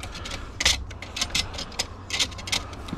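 A fishing downrigger reel is freewheeling, giving quick ratcheting clicks in uneven bursts, close and fairly quiet, with no talking.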